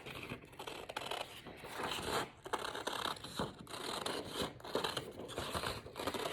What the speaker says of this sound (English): I'm gonna go ahead and cut that out